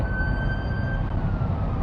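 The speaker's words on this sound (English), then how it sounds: "There's an ambulance behind us in the left lane" An ambulance siren sounds in traffic, a steady wailing tone held over a constant low road and engine rumble, moderately distant and without talk.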